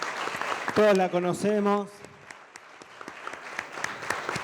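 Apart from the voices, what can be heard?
audience applause for Graciana Peñafort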